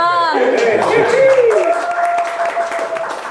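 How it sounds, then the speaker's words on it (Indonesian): A group of people claps their hands at a talk with the head of the Blitar immigration office, a brief patter of applause under a speaking voice. "Tepuk tangan dong."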